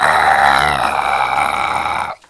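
A person imitates a long, gurgly burp with their voice, loud and close, a continuous throaty rumble lasting about two seconds before cutting off abruptly.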